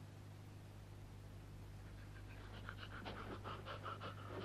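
Rhythmic panting from a dog in a radio drama, steady quick breaths growing clearer and closer over a constant low hum, with no voices.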